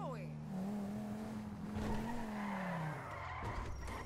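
Tires skidding on a car in a GTA roleplay game, a long sustained squeal with a steady engine tone that bends in pitch, close and loud for about three seconds before fading; a voice talks over part of it.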